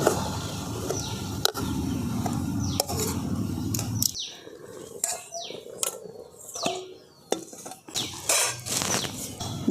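Metal pot handled on a stove while ghee-mixed rice flour dough is cooked: a scraping, clanking stretch, then separate knocks and clinks of metal against metal, close and fairly loud, with no talk.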